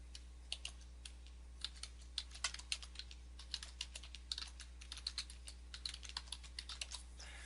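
Keys clatter on a computer keyboard as a domain name is typed, a steady run of light, quick clicks over a low constant hum, with no voices.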